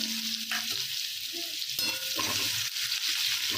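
Chopped onions fry in a pan for Gujarati palak dal, a soft steady sizzle with occasional scraping stirs of a spoon, close and fairly quiet, no talking.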